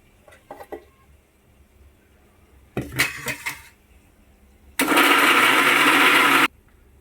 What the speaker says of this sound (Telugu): మిక్సీ జార్లో వేసి ఒక రెండు మూడు రౌండ్లు వేసేస్తే